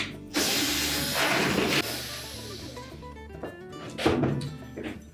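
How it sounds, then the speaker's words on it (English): Screws being removed from the back panel of a Whirlpool washer with a power driver, ratcheting whirs and mechanical clunks in bursts with short pauses, close and fairly loud. "we're just going to remove the remaining screws for that back panel. We'll take out all 5 of those."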